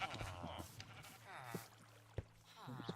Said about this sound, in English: He's got some sheep scattered about in here.